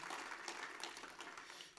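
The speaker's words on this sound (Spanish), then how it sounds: "¿Por qué no le das un fuerte aplauso al Señor en esta mañana?" A church congregation claps during a morning service, a brief, even burst of many hands applauding together at a fairly distant, moderate level with no talking.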